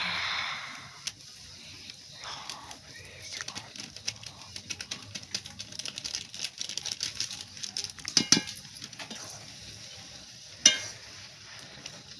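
Carrot halwa simmering in milk with ghee in a pan, stirred with a spoon: a soft, steady bubbling sizzle under scraping strokes, with a couple of sharp metallic clinks of the spoon against the pan near the end.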